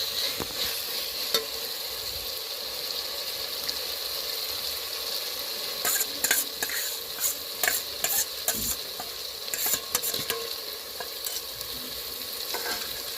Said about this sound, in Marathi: मिरची, अद्रक, लसूण याची पेस्ट. आता हे चांगलं तेल सुटेपर्यंत भाजून घ्यायचं.